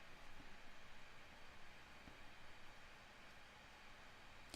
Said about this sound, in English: There's white noise. I think it's my computer.